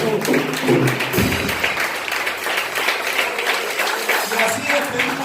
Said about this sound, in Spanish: Bríndale un fuerte aplauso al Señor